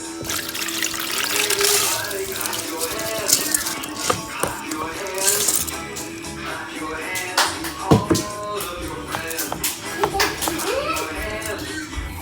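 Water draining and trickling from soaked rice for anarsa, with irregular splashes, dribbles and rattling grains at close range.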